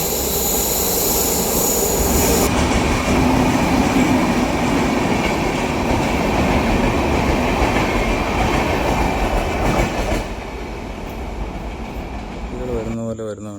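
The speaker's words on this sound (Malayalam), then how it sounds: "ഒരു ട്രെയിൻ വരുന്നു." A train arriving at Varkala station, a loud sustained roar and rumble close by that holds steady, then eases and shifts as it draws in, with voices faintly beneath.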